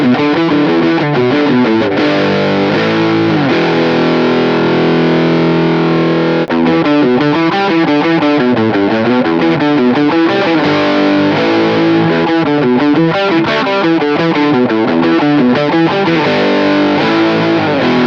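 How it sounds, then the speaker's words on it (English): A Gretsch Jet electric guitar played on the bridge pickup with high-gain distortion, loud saturated chords and riffs ringing out continuously with no talking. "let's crank up the gain, head back to our bridge position,"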